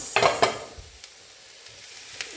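A spoon scrapes and stirs purple cabbage thoran in a pan, a couple of quick close strokes at the start followed by soft sizzling and occasional light clinks.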